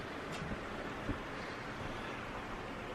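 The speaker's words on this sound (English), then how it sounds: "You can hear the river" River flowing near a parked Jeep, a steady broadband rush of water, faint and continuous, with no voices over it.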